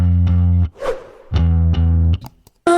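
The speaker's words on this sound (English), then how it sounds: "So the amp signal sounds like this." Bass guitar played through an SVT-style amp model with an SVX cab in Amplitude 5, from a rock mix. A few loud, sustained, growly low notes ring out separately, with short gaps and a final attack.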